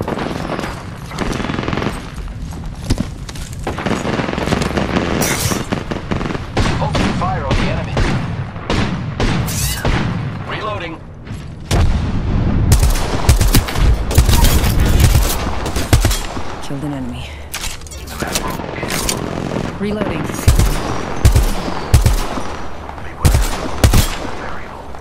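Rapid bursts of automatic gunfire and booming shots from a squad-based shooter video game, loud and dense throughout, with several sharp louder volleys near the end and a voice speaking briefly in the mix.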